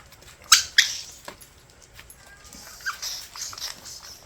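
A dog squeezes a squeaky toy: two sharp, bright squeaks close together near the start, then softer squeaks and rustling, all up close in a quiet room.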